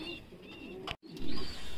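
Fancy pigeons cooing at a pigeon farm in Rajshahi, with soft low coos repeating close by over steady background noise and a brief dropout near the middle.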